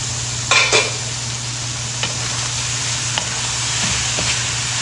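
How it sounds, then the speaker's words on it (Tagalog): Ampalaya (bitter gourd) being stirred in a hot pan as it sautés, with a steady broadband sizzle and a couple of scraping strokes near the start, plus a few faint utensil taps later on. "Saka natin haluin."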